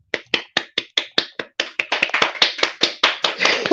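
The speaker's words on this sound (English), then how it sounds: "Those are my applause. Clap." One person claps their hands alone, about twenty distinct, sharp claps in a steady rhythm that quickens slightly toward the end, close and clear with no talking.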